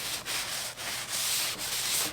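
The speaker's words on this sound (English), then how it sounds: "Give this a nice rub down, of course, with my hand." A hand rubs down a part of a Spiderfarm hydroponics system during cleaning, giving a steady, close scrubbing sound in repeated strokes with brief pauses between them, with no talking.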